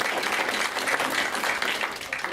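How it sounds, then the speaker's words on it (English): Audience applause for two panel co-chairs at an energy interest group event, a dense, steady wash of many hands clapping indoors, moderately loud and continuous with no talk over it. "let's give a big round of applause to them"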